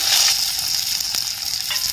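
Chopped onions sizzle and crackle in hot oil in a pan, a steady bright frying hiss close by with a couple of sharper pops.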